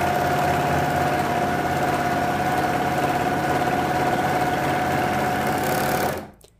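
An overlock sewing machine runs fast with the pedal pressed hard, a loud close steady whirring buzz with a constant tone that holds for about six seconds and then stops abruptly.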